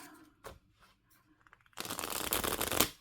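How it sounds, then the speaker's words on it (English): A deck of oracle cards is riffle shuffled after a few light handling taps, giving one loud, close burst of fluttering card riffle near the end. "This one is a bit hard to shuffle with riffling."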